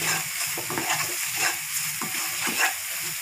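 Turmeric and coriander powder are stirred into hot oil in a pan for Punjabi chole, making a soft continuous sizzle with rhythmic scraping strokes of a spoon, close up and without talking.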